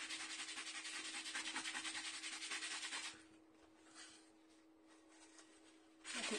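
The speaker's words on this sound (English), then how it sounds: "A good scrub." Card-making material is scrubbed hard and close for about three seconds, a dense rhythmic rasping rub. A quieter pause follows, then the scrubbing starts again at the end.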